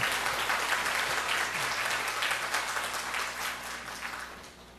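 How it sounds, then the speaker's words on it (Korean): A church congregation claps steadily to welcome guests, the dense applause holding strong before gradually tapering off, with no voices over it. "두 분들 우리 박수로 함께 받도록 그렇게 하겠습니다"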